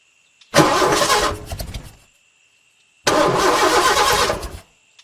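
A car engine cranks as the key is turned on an outback drive toward Alice Springs: two separate bursts of starter grinding, each lasting well over a second, with silence between them. The sound is close and loud, with no voices.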